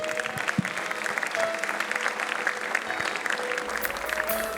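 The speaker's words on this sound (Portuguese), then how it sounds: "Aplauda mais forte." A church congregation claps together during a Portuguese-language worship service, a dense, steady wash of applause with faint voices mixed in throughout.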